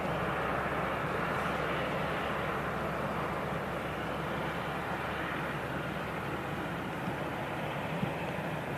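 Airbus A321 jet airliner taxiing out at Manchester Airport, a steady broad rumble and whine of the engines holding constant throughout, moderately distant with no talk over it.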